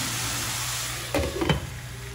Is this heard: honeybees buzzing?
no